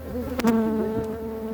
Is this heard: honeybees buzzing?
yes